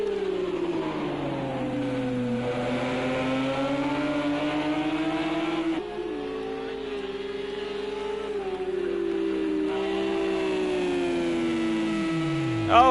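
A Porsche GT3 race car in Project Cars 2 howls at Road America, its engine tone climbing and dropping through gear shifts, loud and sustained and close to the listener, with a brief dip midway before revving up again.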